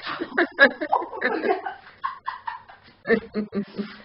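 A dog whimpers and whines in short, high, nasal bursts close by, mixed with people's voices and light laughter throughout.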